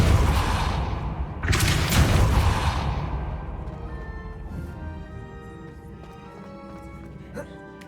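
A Depulso spell is cast in Hogwarts Legacy: a loud, broad magical blast bursts out over a rumbling background, then fades into a softer ringing tail.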